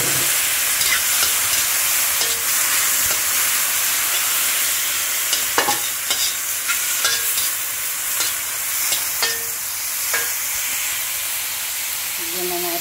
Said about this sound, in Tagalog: medyo brownish na ng konti ang ating ginisang chicken meat. Pwede na natin siyang lagyan ng soy sauce.